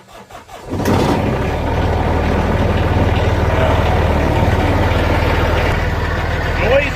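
A lawn mower engine sputters to life after a brief rattle, then settles into a loud, steady idle with a throbbing low rumble that continues throughout.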